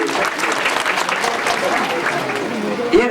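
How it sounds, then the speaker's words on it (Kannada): A crowd at a temple palanquin festival claps steadily and densely throughout, a continuous loud wash of applause with no gaps. "ಈಗ ನೀವು ಜೋರಾಗಿ ಚಪ್ಪಾಳೆ ತಟ್ಟಿ ತಟ್ಟಿ ತಟ್ಟಿ"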